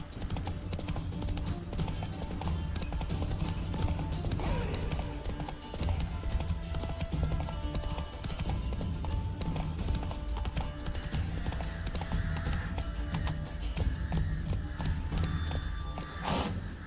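Steady clip-clop of horse hooves while riding in the video game The Witcher 3: Wild Hunt, a continuous rhythmic trot carrying on for the whole stretch under background game sound.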